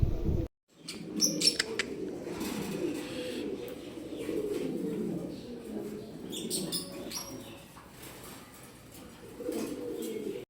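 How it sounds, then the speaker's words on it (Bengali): White pigeons coo in a steady, low murmuring chorus, with a few sharper chirps and rustles scattered over it. "এখানে আরেক জোড়া কবুতর আছে, এটাও সাদা কবুতর"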